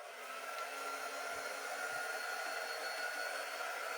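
A hair dryer runs steadily close by, a continuous loud whooshing blow with an even airflow hiss and no pauses.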